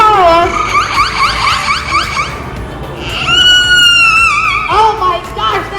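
A bird at a museum mimics a car alarm, cycling through rapid warbling whoops, a long steady tone and rising wails, loud and close.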